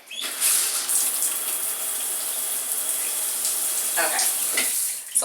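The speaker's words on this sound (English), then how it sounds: "Let me stop standing over the drain because it's definitely making a loud noise." Water from a shower runs steadily down the drain with a loud, continuous hiss and splash, close by, with a couple of brief shifts near the end.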